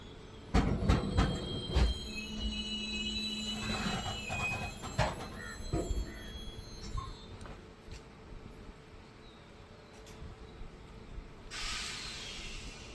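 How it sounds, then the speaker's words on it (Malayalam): A train pulling out of Hosur railway station in the early morning, with clanks and metallic knocks over a low rumble and a burst of hiss near the end, moderately distant with no talk. "നമ്മുടെ ട്രെയിൻ അങ്ങനെ ഒസൂർ റെയിൽവേ സ്റ്റേഷനിൽ നിന്ന് അപ്പം വീണ്ടും പുറപ്പെട്ടിരിക്കുകയാണ്"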